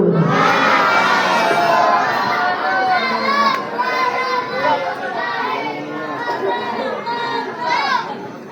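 At a Mamanda theatre performance by Sanggar Seni Kumbang Banaung, a large audience cheers and shouts loudly and continuously, many excited voices overlapping in a sustained roar.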